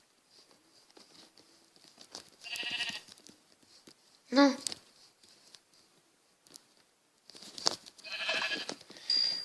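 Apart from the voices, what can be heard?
sheep bleating in Minecraft video game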